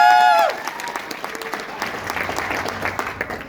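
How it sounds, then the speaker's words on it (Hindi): An audience at a motivational speech bursts into steady, dense applause that carries on evenly through the moment, following a brief sustained tone at the very start. "बजाओ ताली"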